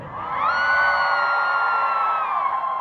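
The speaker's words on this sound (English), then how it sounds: "I want to hear you scream." A live audience at a reggae concert screams and whoops together. The loud, sustained burst of voices lasts about three seconds.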